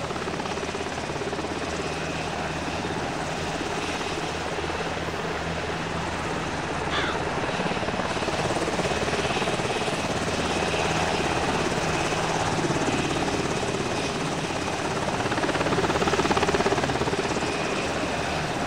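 A helicopter hovers in a flight-training video game, its rotor and engine roaring loud and steady throughout with a dense, unbroken drone and no voices over it.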